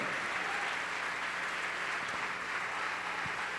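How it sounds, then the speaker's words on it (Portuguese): Church congregation applauding continuously during a worship service, a steady wash of clapping at moderate level with no break. "Vamos aplaudir mais ao nome do Senhor."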